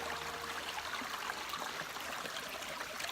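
A creek flows past a campsite through a beaver-dammed stretch, a steady, soft, fairly distant rush and trickle of water with no voices.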